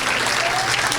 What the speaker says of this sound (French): Clap your hand beautifully for the Lord.